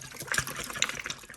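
Water rushes and splashes inside a kitchen container being rinsed out, a brief choppy gush close by with a few bright sloshing spikes.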